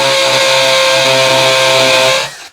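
A DongCheng DCJZ2090i cordless impact drill runs at full speed with a loud, steady high-pitched motor whine for about two seconds, then spins down and stops abruptly.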